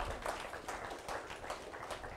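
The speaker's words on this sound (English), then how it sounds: "let's give the Lord a hand clap there" A church congregation claps hands together during a worship service, a steady rhythmic applause with regular beats at moderate distance, somewhat soft and roomy.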